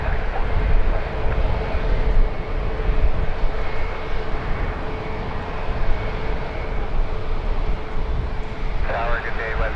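A Porter airliner on its takeoff roll at Toronto Pearson gives a loud, steady engine roar with a low rumble, while a radio voice talks over it.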